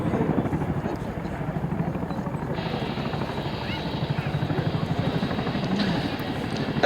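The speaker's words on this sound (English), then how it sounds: "Now the helicopter's been turned into wind to make a running landing." Chinook twin-rotor military helicopter flying in and turning into wind for a running landing, a steady loud rotor thrum and engine roar throughout with dense rhythmic blade chop.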